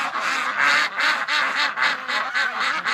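A flock of penned ducks on a winter morning quacks loudly and continuously, overlapping calls pulsing in a rapid rhythm close by.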